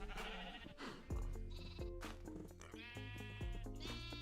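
Minecraft sheep bleat several times in a row, loud and close, each call a wavering nasal baa, with game background music playing underneath and no talking.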